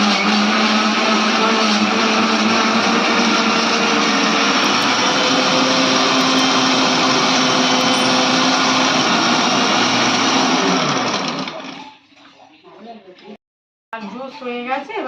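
A kitchen blender whirs loudly and steadily while pureeing watermelon into juice, running for about eleven seconds before winding down and stopping, with a voice speaking afterward.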